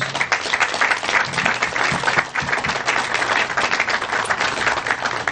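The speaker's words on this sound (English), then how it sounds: "Let's give them a nice round of applause." An audience at the New Jersey Senior Olympics gives the organizing committee a round of applause, dense continuous clapping from many hands that stays loud and steady throughout.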